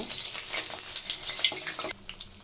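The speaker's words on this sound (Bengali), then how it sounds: "এভাবে কড়াইয়ে তেল গরম করে মাংসের চপগুলো ভেজে নিব" Meat and potato chops fry in hot oil in a wok, giving a loud, dense crackling hiss that stops abruptly near the end.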